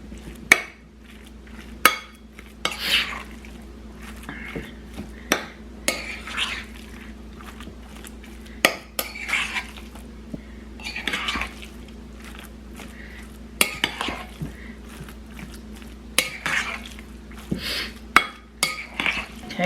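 A spoon stirs pizza stuffed shells filling in a bowl, giving repeated sharp clinks and scrapes against the dish at an irregular pace, close and fairly quiet, with no voices.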